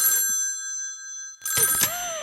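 A telephone bell rings in a radio drama: a short ring, a pause of silence, then a second burst, loud and bright with a steady tone.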